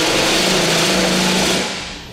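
A power drill bores an 11/16-inch hole through the bed of a Ram 2500 pickup for an underbed gooseneck hitch, a loud, steady high-pitched whine that runs continuously and tapers off at the end.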